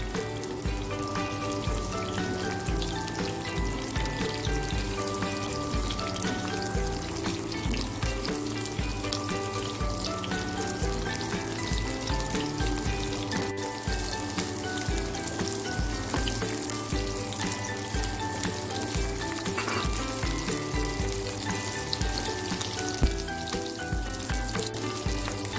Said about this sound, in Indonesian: Saya masukkan terongnya. Goreng, yang penting layu ya teman-teman ya,